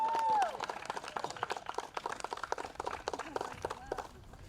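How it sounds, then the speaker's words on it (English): Applause for graduates at a small mobile graduation for the class of 2020, scattered claps that sound fairly distant and light, with a brief tone at the start and faint voices. "Can we have one more round of applause for all of the graduates here today?"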